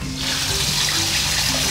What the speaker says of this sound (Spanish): se llena de agua